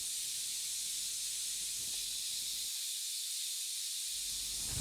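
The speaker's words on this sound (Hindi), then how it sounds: "एक कुकर बंद कर दीजिए, हंडिया ना लग जाए नीचे।" Pressure cooker on a home kitchen stove releasing steam, a loud, steady high hiss that runs the whole time, with a brief dip in the low rumble midway and no voices.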